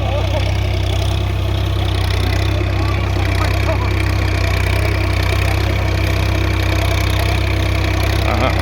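A Massey Ferguson 8055 tractor engine pulls an MB plough through hard, cloddy pigeon-pea field soil, a loud, steady, low diesel drone running continuously from near by.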